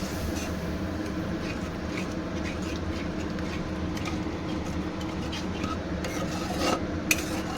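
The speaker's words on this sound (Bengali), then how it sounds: "সেই জলটা দিয়ে দিলাম একটু নেড়ে চেড়ে নিলাম" Egg malaikari masala stirred in a pan after water is added, a continuous rough scraping and rubbing of a spoon against the pan bottom, close and steady, ending in a small sharp knock.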